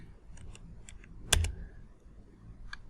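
Rapid clicking keystrokes on a computer keyboard while code is entered in an ASP.NET MVC Core development environment, a loud cluster of taps at the middle with a few scattered single clicks around it, close and otherwise quiet.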